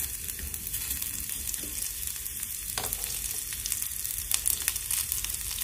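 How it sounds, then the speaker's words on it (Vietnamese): Minced shallots sizzle and crackle steadily in oil in a pan, with a few faint scrapes of stirring, close up and without talk. "Bây giờ mình sẽ cho cái phần của hành tím mình băm nhuyễn ha, vô đây."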